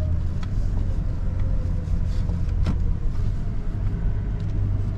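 Toyota Land Cruiser in high four-wheel drive on hard beach sand at Bribie Island, a steady low engine rumble and road noise holding close and even throughout.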